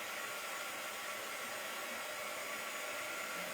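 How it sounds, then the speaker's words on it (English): A hair dryer blowing steadily on a decoupaged glass jar during a holiday craft, a constant close whooshing hiss with no pauses and no talking. "Let me blow dry this some."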